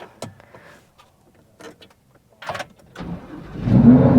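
A stock Lamborghini Huracan is started after scattered clicks and shuffling inside the car, and its engine catches with a swelling low roar that builds loudly at the end.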